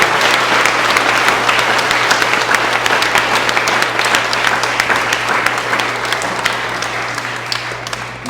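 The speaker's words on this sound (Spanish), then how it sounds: "Démosle un fuerte aplauso a la comunidad de Río Seco y el Franciero." Congregation at a Catholic Mass during a novena honoring Saint Lucy applauding strongly, a loud, dense, sustained wash of clapping that holds steady for several seconds before easing slightly at the end.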